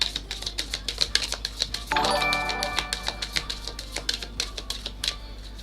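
A rapid, steady series of crisp clicking taps of tarot cards being riffled and shuffled, continuing for several seconds over a low hum.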